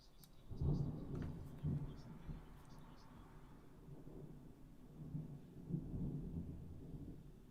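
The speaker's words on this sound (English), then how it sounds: "I think that's thunder." Low rumbling thunder rolls in several swells, fairly distant and muffled, beneath a faint background of indoor noise while people watch a football cup final.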